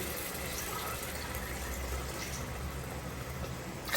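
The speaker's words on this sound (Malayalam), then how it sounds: "നമുക്കൊരു നാലര ഗ്ലാസ് വെള്ളം ഒഴിച്ച് കൊടുക്കുന്നു" A continuous, steady rush of water pouring into a pot of rice for kabsa, close by, with no talking.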